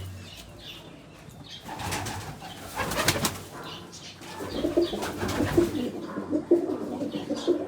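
A pair of domestic pigeons, a hen and a cock, coo repeatedly up close, with soft rustling and a burst of wing flapping, occasional bursts growing louder toward the end.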